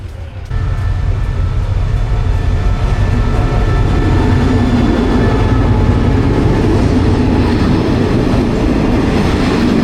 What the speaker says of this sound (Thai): กำลังรอรถไฟเข้าท่าครับ